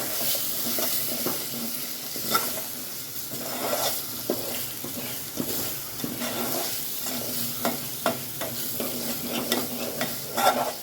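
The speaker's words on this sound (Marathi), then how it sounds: "त्याच्यात टाकणार आहे मी काळा मसाला, थोडंसं तेलात भाजून घेते" Black masala spice blend roasts in hot oil with a constant sizzle, punctuated by repeated scraping strokes of a spoon stirring the pan.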